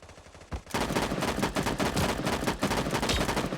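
Loud, close gunfire in the video game Sausage Man, with one shot followed by a sustained rapid automatic burst lasting several seconds.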